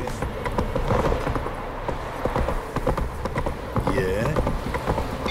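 Horse hooves clip-clop in Witcher 3 Wild Hunt gameplay, a brisk, uneven rhythm of sharp knocks on hard ground, close and fairly loud, with a whinny-like call near the end and voices over the hoofbeats.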